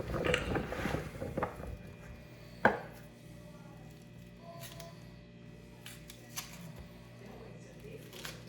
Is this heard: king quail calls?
no